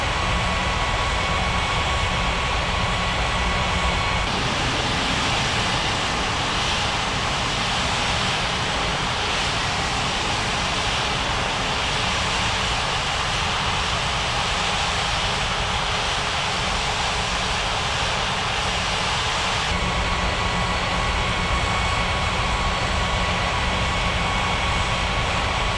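Air India airliner landing on runway 35L in a flight simulation game, a steady loud broadband jet engine roar filling the whole stretch, with a slight shift in tone partway through and no voices.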